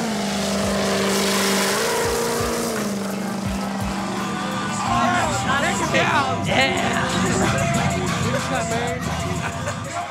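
A modified diesel pickup truck accelerates hard at a gathering of tuned vehicles in the United States, a loud rising engine roar over crowd chatter, with revving and whining surges in the later seconds.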